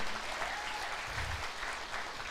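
A church congregation applauds the Lord during a sermon, a brief, soft spread of clapping heard from a distance with a low murmur beneath.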